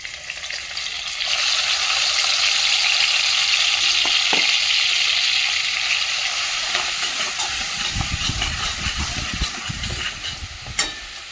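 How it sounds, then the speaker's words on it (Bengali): Fish onion paste masala with nigella seed tempering frying on high flame, a loud continuous hiss and sizzle with occasional stirring scrapes and a few thuds near the end. "হাই ফ্লেমে আমি এটাকে মশলাটাকে কষিয়ে নেব"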